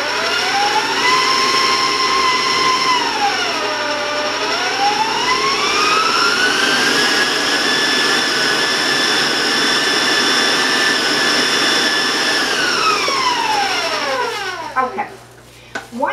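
An electric mixer beating coconut cookie dough whines steadily at close range, its pitch dipping and climbing as the speed changes, then cutting off near the end.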